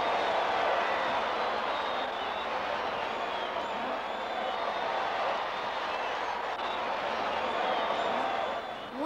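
Concert crowd in a classic Inspector Gadget cartoon: a steady, dense roar of cheering and clapping that stays loud throughout, with voices mixed into the din.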